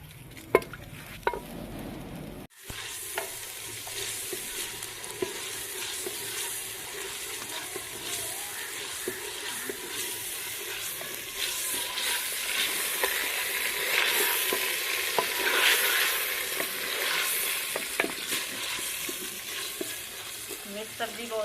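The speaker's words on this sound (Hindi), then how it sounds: "तो हम प्याज को हल्का सा ब्राउन कर लेंगे।" Onions frying in ghee in a pan while being stirred until lightly browned, a continuous close sizzle with scraping spoon strokes and small clinks throughout, without talk.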